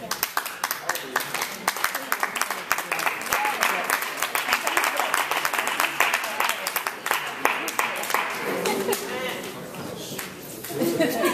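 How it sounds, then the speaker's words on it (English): A large audience gives a sustained round of applause at a lecture on hip hop history, with dense, steady clapping that thins slightly toward the end while a voice speaks over it. "I really appreciate the round of applause"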